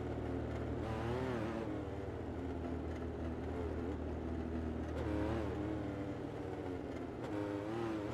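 Dirt midget race cars run on a dirt track, engines droning and rising and falling in pitch as they pass, heard at a distance as a steady, continuous roar.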